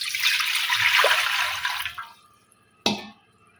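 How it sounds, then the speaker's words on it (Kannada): Water pours steadily into semolina for masala rava papad for about two seconds, then cuts off, followed by a single sharp clink close by. "ಇದರಲ್ಲೇ ನೀರು ಹಾಕೋತೀವಿ"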